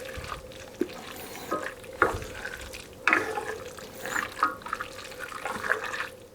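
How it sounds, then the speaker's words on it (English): A spatula stirs a dollop of sour cream into beef stroganoff over noodles, making wet, squelching scrapes in uneven strokes, fairly close and with no voices. "I'm actually putting the dollop onto the spatula and then mixing it in"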